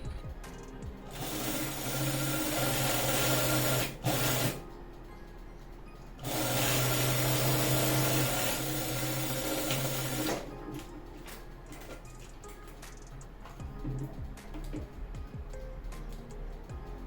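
A sewing machine stitches the back seam of a gathered side-pleat nursing dress. Two long, loud whirring runs are separated by a pause, followed by quieter handling clatter, close by and without speech.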